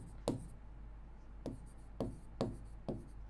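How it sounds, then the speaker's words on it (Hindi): Pen strokes writing words by hand on a surface, five distinct scratchy strokes spaced about half a second to a second apart, close and quiet with no talking. "यहाँ पर लिख देती हूँ।"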